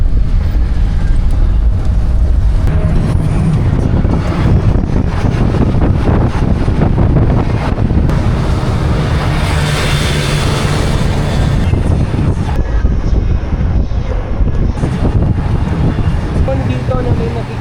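Strong wind buffeting a microphone outdoors on Siargao island, a loud continuous low roar with gusting rumble lasting throughout, with a voice talking faintly beneath it.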